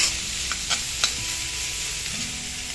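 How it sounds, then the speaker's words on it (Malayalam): Six long-sliced onions frying and being stirred in a pan with ginger and garlic for a soya chunks roast, giving a steady close sizzle with a few sharp scrapes of the spoon. "ഇഞ്ചി വെളുത്തുള്ളി മൂത്ത് നല്ലൊരു വാസന വരുമ്പോൾ നമുക്കിതിലേക്ക് അരിഞ്ഞു വെച്ചിരിക്കുന്ന സവോള ചേർത്ത് കൊടുക്കാം."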